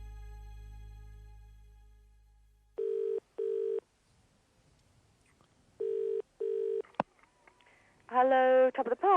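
A landline telephone gives a dial tone, then two pairs of short evenly spaced dialing beeps with quiet gaps between them, followed by a click and a burst of voice-like sound at the end.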